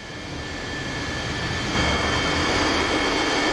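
Jet aircraft engines drone in a modern naval-battle scenario within a combat flight simulator game, a steady, rushing roar that swells slightly partway through and holds without any talk.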